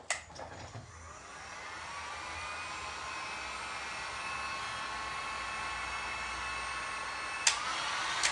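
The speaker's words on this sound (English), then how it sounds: "So we may hit it with a dryer." A hair dryer blows steadily at close range to dry acrylic paint on a canvas for a glass and resin nativity craft, a continuous airy whoosh with brief clicks at the start and near the end.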